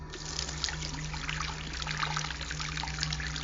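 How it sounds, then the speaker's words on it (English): Water runs and trickles steadily, like a tap splashing onto a face, an audio drama sound effect heard close and continuous over a low electrical hum, without any speech. "The water on my face helps a little."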